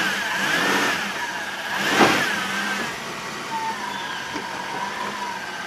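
Minivan engine chained to a stripped W-body car, revving up and swelling loudly around the middle before settling into a steady strained drone as it drags the car, with no talking.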